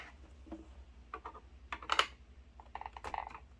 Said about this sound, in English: I'll make sure these other screws are tight.